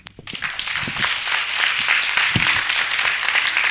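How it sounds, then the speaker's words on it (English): An audience at the 77th Annual New Year School and Conference breaks into steady, dense applause that carries on evenly for several seconds, with a few low thumps beneath it. "A round of applause for them."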